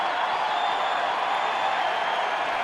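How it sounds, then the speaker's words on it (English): A Red Sox baseball crowd at Fenway Park roars steadily, a dense, even wash of cheering and noise from a large stadium audience that holds constant throughout without pause. "Red Sox crowd trying to get this team out of this inning"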